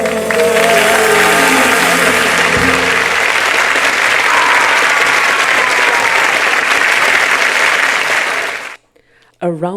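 An audience gives a standing ovation after a song performance, with loud sustained clapping and crowd noise that fade out near the end before a brief voice.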